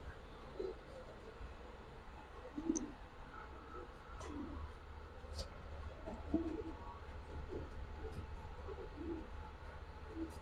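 Giribaz pigeons coo softly in a loft, with several low murmuring calls spread over a quiet background hum and a few faint distant sounds.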